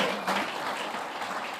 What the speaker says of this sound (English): you should be clapping